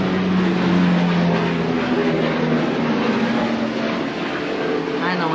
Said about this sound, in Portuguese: Ah, não, era o helicóptero.